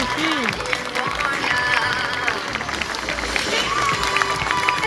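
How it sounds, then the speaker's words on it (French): Spectators clap at a zoo sea lion show, a continuous spread of applause from the crowd with an announcer talking over it and a few whistles and calls cutting through. "n'hésitez pas à l'applaudir très fort"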